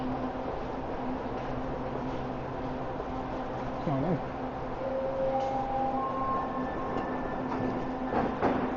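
SkyTrain metro train at Main Street station in Vancouver, a steady rumbling hum of the train with rising electric motor whines and a brief squeal, heard from the platform or inside the car.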